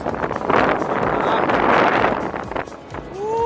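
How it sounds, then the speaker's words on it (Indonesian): Strong, gusting wind buffets the microphone in a steady broadband roar, with a voice briefly heard near the end. "Kencang banget ya anginnya."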